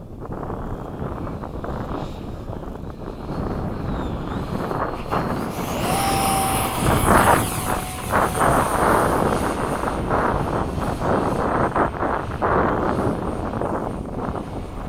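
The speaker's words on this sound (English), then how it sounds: "I like doing touch and goes with a jet." A 70mm EDF F/A-18 model jet flying touch-and-goes at sunset, its ducted-fan whine swelling and fading as it passes, with steady wind noise over the microphone and no talk.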